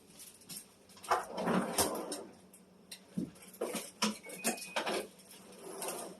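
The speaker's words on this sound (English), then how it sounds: "let me throw these in the freezer right fast" Homemade biscuits being loaded into a home freezer: a scattered series of light clatters, knocks and sliding scrapes, close and fairly quiet, with no talk.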